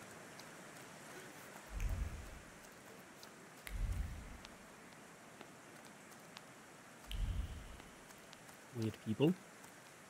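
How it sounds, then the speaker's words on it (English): Rain hisses steadily in The Thaumaturge video game, a soft, continuous wash interrupted by several low thudding bursts, with a brief spoken line near the end. "It's raining too much."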